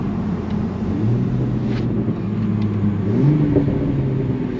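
An MK5 Toyota Supra accelerates hard, its engine a steady loud drone with rising pitch through gear changes, heard from inside the cabin.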